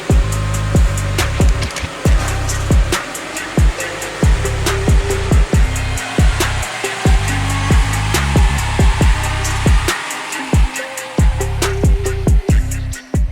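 A car's engine runs hard on a roller dynamometer, a loud, continuous broadband roar with rhythmic sharp transients throughout. No talking is heard over the machinery.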